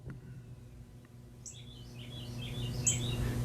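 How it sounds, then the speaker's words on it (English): Birds chirp in short, faint, scattered calls against a low background hum, growing a little busier toward the end. "Can you hear the birds in the background?"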